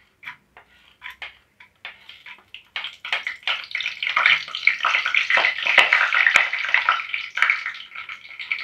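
Chana dal drops into hot oil already crackling with mustard seeds and urad dal, and the close, bright sizzle of the tempering builds from scattered pops into a dense, steady spatter.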